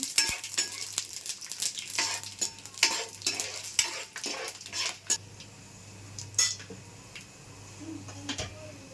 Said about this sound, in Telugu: నూనె వేడెక్కింది కదండి ఇప్పుడు ఈ పలావ్ మసాలాలన్నీ వేసేసుకుందాం